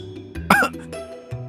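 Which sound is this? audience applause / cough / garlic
cough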